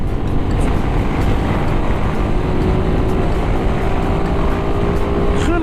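A Suzuki big bike, such as a Burgman 400 scooter or V-Strom 650 or 1050, accelerates on a test ride. A loud, steady engine roar is heard with a rising tone and wind noise, and no talk.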